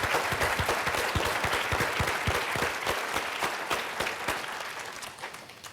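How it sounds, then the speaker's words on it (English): Sustained applause from a conference audience at the PAINWeek 2016 keynote address honoring a pain educator, dense clapping filling the room at steady loudness and tapering slightly toward the end. "Let's give him a round of applause."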